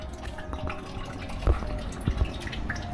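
Distilled oil trickles from a small pipe at a village refinery producing diesel from old wells: a continuous close liquid flow and drip with a few heavier splashes, no talking.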